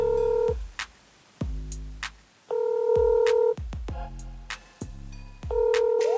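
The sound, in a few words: telephone dialing and ringing for a phone call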